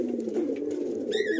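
A Madrasi pigeon offered for sale in Kolkata gives a short, close, throaty coo that rolls low and steady, with a brief higher chirp near the end.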